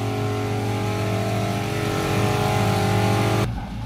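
A ZAZ car engine, freshly back from a gearbox repair, runs loud and close with a steady mid-range drone that builds gently before cutting off abruptly near the end.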